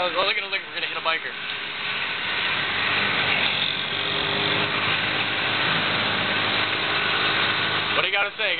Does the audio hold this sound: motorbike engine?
yes